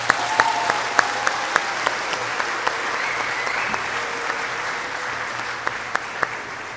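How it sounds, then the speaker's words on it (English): A convocation crowd at a secondary school graduation for the class of 2025 applauds steadily, a dense, sustained wash of clapping with scattered sharper individual claps throughout. "how about one more round of applause here for the graduating class of 2025?"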